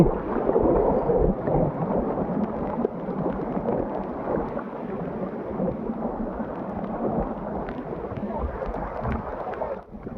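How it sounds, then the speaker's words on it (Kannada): Rain falls with a rushing mountain stream on the Tadiandamol trek in Coorg, forming a continuous, loud wash of water noise with no pauses. "ನೀರಿನ ತೊರೆ ಹರಿತಿದೆ ಈ ಕಡೆ ಮಳೆ ಒಂದು ಕಡೆ"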